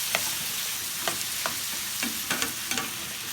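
Smothered potatoes fry covered in a pan with a steady, close sizzle, broken by a few soft clinks and stirring scrapes spaced through the clip.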